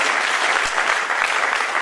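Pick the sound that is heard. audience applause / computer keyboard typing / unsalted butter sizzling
audience applause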